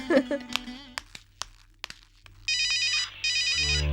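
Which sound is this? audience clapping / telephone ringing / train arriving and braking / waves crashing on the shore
telephone ringing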